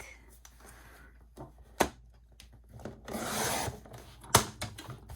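Paper for a gatefold 3-in-1 album being cut, with soft rubbing and scraping strokes and two sharp, loud snips standing out against quiet room sound.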